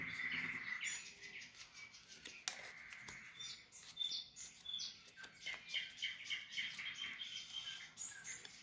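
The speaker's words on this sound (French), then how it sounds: "On entend le chant des oiseaux," Birds sing outdoors in a steady stream of bright chirps and short trills, fairly close and continuous, over a soft background hiss.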